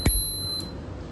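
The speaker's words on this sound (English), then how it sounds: "Got a nice bell here." A bell on an NJS Bridgestone track bike with riser bars gives a single bright ring at the start, its clear high tone lingering and fading over about a second.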